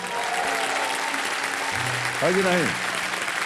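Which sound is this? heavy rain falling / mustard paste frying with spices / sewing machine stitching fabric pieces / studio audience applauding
studio audience applauding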